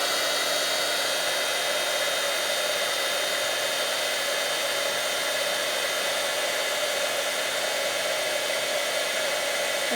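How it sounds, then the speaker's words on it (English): Heat tool blowing hot air to melt embossing powder, a constant close rushing roar with a faint steady whine, alone and unchanging for the whole stretch. "I'm going to turn on the heat tool, and then we're going to melt this so that it becomes shiny."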